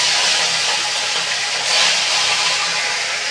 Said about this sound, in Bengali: তেল দিয়ে দিয়েছি, তেলটা গরম হয়ে গেছে। এবার মাছগুলোকে ভালো করে ভেজে নেব।